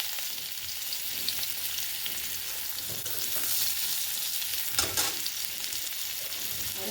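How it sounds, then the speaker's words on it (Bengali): Chopped onion frying in mustard oil makes a continuous close hiss and crackle for several seconds, with occasional thuds and scrapes of a spoon stirring, no talk. "পেঁয়াজটা একটু ভেজে নেবো।"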